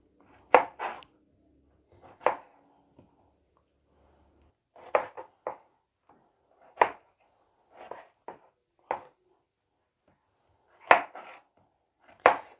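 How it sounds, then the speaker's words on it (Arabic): Knife chopping fruit on a board in a home kitchen, a series of sharp, separate close taps in small irregular clusters with quiet gaps between them, no voices. "قطعي بقى زي ما انت عايزه، صغيره كبيره"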